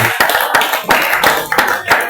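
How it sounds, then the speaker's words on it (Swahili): A church congregation clapping together in a steady rhythm, several loud sharp claps at regular intervals up close, with no talking. "Pigia Bwana Yesu makofi mzuri."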